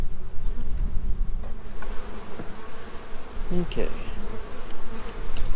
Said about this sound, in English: We've got lots of bees there.